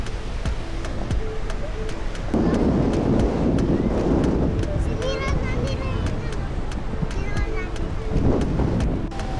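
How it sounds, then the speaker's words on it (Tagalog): Strong wind at Lingayen Beach buffets the microphone in a steady roar with low rumbling surges, while people talk nearby and a few sharp clicks break through. "Grabe, lakas ang hangin eh, no?"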